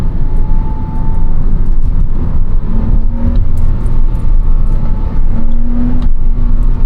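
A 2007 Porsche Cayman 987.1 with a manual gearbox pulls hard in second gear, its engine a loud, continuous roar from inside the cabin that rises in pitch as it accelerates.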